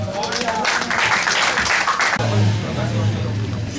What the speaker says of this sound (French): je vais vous demander d'applaudir encore le coordinateur